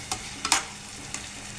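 Tomatoes frying in a pan for an Indian curry, with a low sizzle and a few sharp stirring scrapes and clinks of the spoon against the pan.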